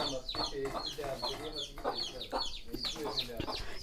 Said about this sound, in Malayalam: എന്റെ കോഴി കോഴിക്കുട്ടീനെ നോക്ക്